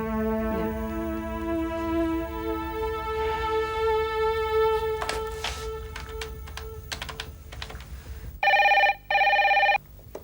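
A telephone rings twice in loud electronic bursts near the end, preceded by faint tapping and clicking against a quiet steady hum.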